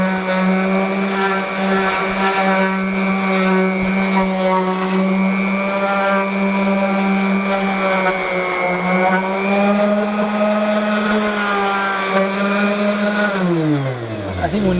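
A loud, steady motorized whine with a strong droning hum from a power sander running continuously on wood boards, winding down in pitch at the very end.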